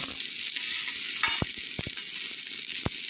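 Softened green chilies frying in a pan, a constant bright sizzle with a few sharp utensil knocks and scrapes against the pan near the end, no talking.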